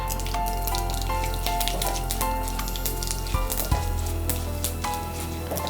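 Urad dal and chana dal crackling and sizzling in hot oil in a pan, a steady busy fry with scattered pops throughout, nearby and with no talking.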